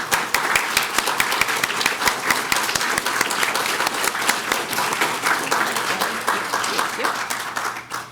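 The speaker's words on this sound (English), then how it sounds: "So let's just give them all a round of applause." An indoor audience at a talk on constructed languages breaks into sustained applause, dense rapid clapping that continues evenly for several seconds before tapering off.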